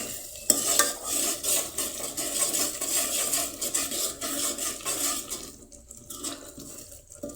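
A ladle stirs dal in a cooking pot, giving a steady close-up scraping and sloshing with a bright hiss behind it, fading quieter toward the end.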